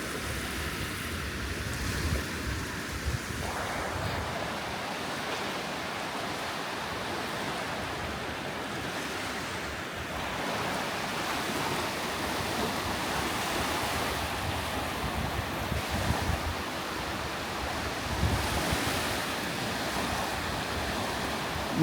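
Sea waves wash onto the beach at Sopot on the Baltic coast, a continuous broad roar of surf with wind mixed in, steady for the whole stretch with no voices.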